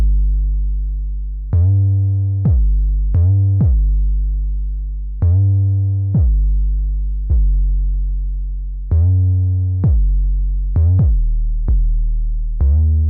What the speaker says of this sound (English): I made it so that it sidechains to the kick and snare.